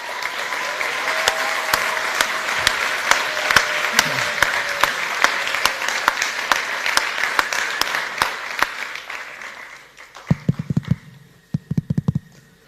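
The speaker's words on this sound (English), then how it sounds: "Big round of applause." Audience applause at a formal gathering in Basel, Switzerland, steady dense clapping from a crowd for about ten seconds, then thinning into a few scattered, louder claps near the end.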